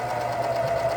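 Close, steady hum of a sewing machine running continuously as it stitches together two layers of worship flag fabric, with no pauses in the short stretch.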